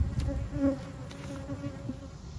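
Honey bees hum at an open hive in a dense, steady buzz close by, with a few individual bees droning a little louder as they pass, and no voices.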